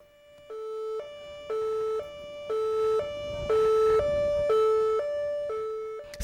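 A loud two-tone siren from a brand-new ambulance alternates high and low pitches in a regular hi-lo pattern, steady and close, with no voices.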